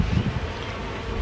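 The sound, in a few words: honey bees buzzing during a hive inspection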